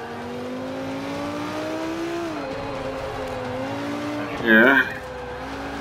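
A Lamborghini races around the Long Beach street circuit in Forza 5, its engine droning steadily with pitch sweeps as it shifts and corners, plus a brief louder burst near the end, under a voice.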